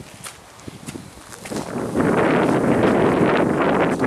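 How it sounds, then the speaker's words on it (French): Heavy wind buffeting a microphone, a low rumbling roar that starts moderate and surges loud halfway through, then stays steady. "il y a du vent."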